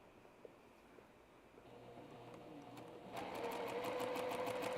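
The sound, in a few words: sewing machine stitching a quilt block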